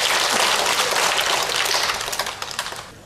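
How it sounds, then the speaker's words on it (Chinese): An audience at a Kaohsiung clan association commemoration of Koxinga's birth applauds to welcome a speaker, dense steady clapping from many hands that thins out and fades toward the end. "咱来掌声欢迎郑水平博士"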